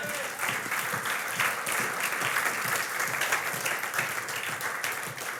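A church congregation applauds steadily to acclaim the Lord, a dense, sustained wash of many hands clapping that stays even throughout with no clear talk.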